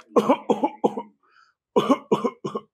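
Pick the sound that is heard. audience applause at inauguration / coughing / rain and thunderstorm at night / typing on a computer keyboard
coughing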